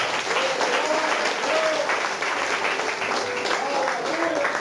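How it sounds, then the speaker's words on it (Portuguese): A church congregation at an evangelical service breaks into sustained applause, a dense wash of clapping that fills the room and carries on steadily, with voices calling out over it. "Palmas para o Senhor Jesus."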